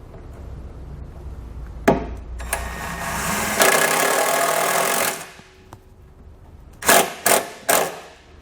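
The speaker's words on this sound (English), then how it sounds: "So I'm going to secure it to that using the provided self-tapping screw." Power drill driving a self-tapping screw into the metal underside of a Subaru, with sharp clunks followed by a sustained whirring burst, a pause, then three short quick drill bursts up close.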